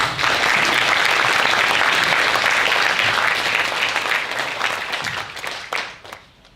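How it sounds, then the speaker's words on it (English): An audience at a technology innovation event applauds loudly and steadily, a dense sustained wash of clapping that thins and fades out over the last second or so. "Give Payam a round of applause"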